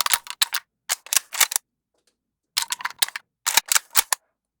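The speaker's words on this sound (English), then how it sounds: "And then here's the sniper rifle. Let's check out the Foley." Sniper rifle Foley from a modern firearms sound library: crisp mechanical clicks and clacks of handling and bolt work, in tight bursts separated by short silences.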